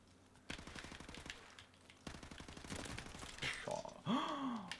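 Video game gunshots fire as rapid, fairly quiet bursts of repeated shots, with a short gap between volleys, followed by a whooshing sweep and brief tonal effects near the end.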